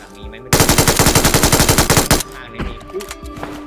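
MG3 machine gun firing in PUBG Mobile, a loud rapid burst of about twenty evenly spaced shots lasting under two seconds, then fading echoes and scattered quieter game sounds.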